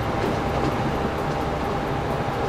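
A train running on the tracks in Train Fever's USA DLC gives a loud, steady rumbling roll with faint rhythmic clatter and high metallic ticks, continuous throughout with no voices.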